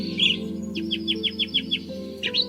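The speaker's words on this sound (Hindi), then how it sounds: "हर सुबह सूरज निकलते ही सभी परिंदे अपनी मीठी आवाजों से बाग को रोशन कर देते" Birds singing in a garden at sunrise: a rapid series of bright chirps and tweets repeating in quick rhythm, close and clear over a low steady hum.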